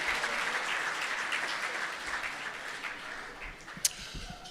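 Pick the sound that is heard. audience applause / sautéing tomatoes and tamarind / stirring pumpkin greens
audience applause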